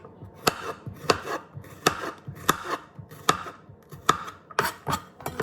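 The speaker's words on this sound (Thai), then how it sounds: "ก็คือว่าการหั่นนะเนาะเราก็จะหั่นแบบนี้ไปเลย" A knife chops food on a board in quick, fairly even strokes, a dozen or so sharp close taps with soft scraping between, no talking.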